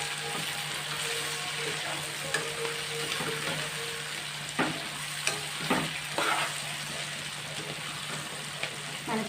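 Cluster bean curry fries in a tempering, a loud continuous sizzle with occasional scraping stirs and spatula knocks against the pan, close by, no one talking.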